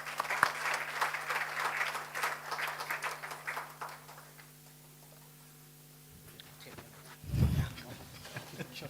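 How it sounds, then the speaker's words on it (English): Seminar audience applauding at a clean audit and governance event, a dense spread of clapping for the first few seconds that fades out, then a steady hum and a brief low thump near the end. "Round of applause for him, please"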